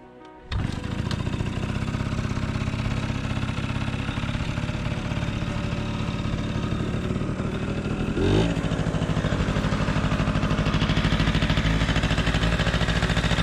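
A roughly 40-year-old Yamaha Towny MJ50 motor scooter engine catches after a brief crank and settles into a steady, buzzy idle up close, with a short blip of revving partway through and no talk.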